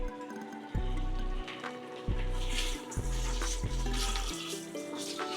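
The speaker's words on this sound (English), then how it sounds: "So next step is we're going to add some water." About two cups of water poured into a pot of stewing chicken, a quiet splashing stream that starts and stops in several short pours.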